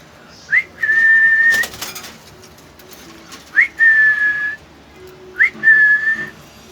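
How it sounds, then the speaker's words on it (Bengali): A male cockatiel in a cage whistles three times, each a short rising chirp followed by a long steady whistled tone, loud and close with pauses between. "আর এই পাশে আমার একটা ককাটেল মেল আছে যে কিনা অনেক কিউট একটা পাখি"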